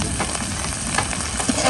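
Shrimp sizzling steadily in hot oil with salt and turmeric, a close, continuous crackle and hiss with no voices.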